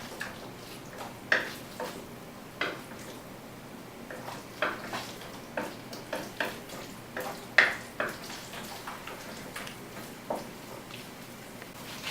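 Chicken liver stir-frying in a pan over high heat, a soft steady sizzle broken by irregular clinks and scrapes of a utensil against the pan, fairly quiet and close, with no talking.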